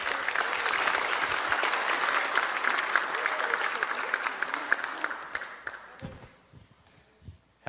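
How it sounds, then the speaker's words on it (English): Warm applause from a church congregation at a Sabbath service, a thick roomful of clapping that holds steady for several seconds, then thins to a few scattered claps before a voice begins. "Would you again give a warm round of applause for Pastor Carl Ricketts?"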